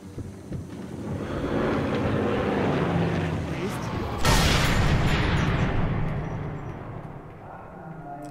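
Propeller airplane passing overhead in the World War II shooter game Sniper Elite III, a broad rushing drone that swells to a loud peak around the middle, then fades away with gusty wind-like noise.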